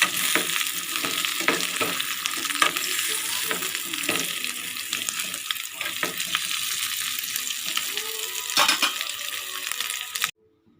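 Coconut pieces sizzle steadily in a hot pan for coconut chutney while a spoon scrapes and stirs them with a repeated rhythm. The frying noise is loud and close, then cuts off abruptly.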